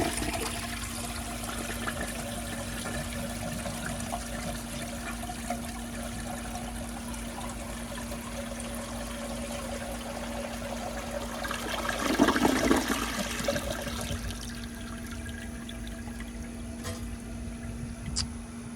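A 1959 American Standard one-piece toilet flushing a washcloth in a test; its flush valve closes a little too soon. A steady, close rush of water swells midway into a louder gurgling surge, then settles back to a running trickle.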